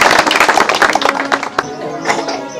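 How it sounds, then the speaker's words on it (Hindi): An audience at a village gathering claps for a speaker, a brisk burst of many hands applauding close by that thins out toward the end. "एक बार फिर से तालियां नेताजी के लिए।"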